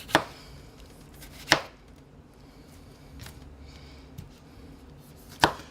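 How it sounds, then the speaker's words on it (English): Knife chopping a tomato on a small cutting board in a home kitchen, three or four sharp, separate chops spaced over a few seconds against a quiet background. "Cut your tomato"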